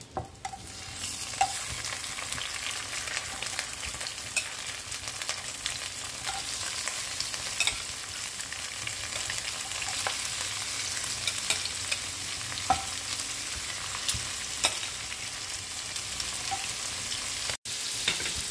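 Shrimp frying in hot oil for shrimp Salvatore, a steady close sizzle with occasional stirring clicks and pops running throughout, no talking.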